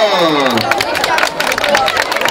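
Crowd at an open local-government run cheering and clapping loudly and continuously, a dense roar of voices and hands close by with an announcer's voice over it.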